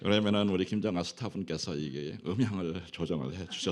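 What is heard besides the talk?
None of the usual background noises is heard.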